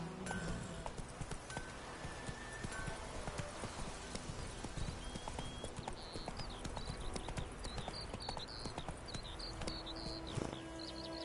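A horse gallops in The Witcher 3: Wild Hunt with rapid, steady clip-clop hoofbeats and faint bird calls in the background.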